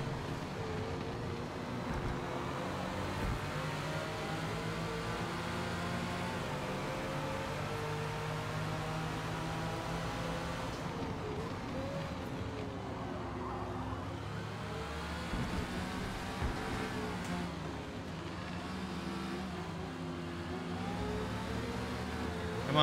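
Race car engines roaring in the Forza racing game on the Nürburgring Nordschleife, a dense steady drone of several engines with shifting whine and pitch, continuous and loud throughout with no talking.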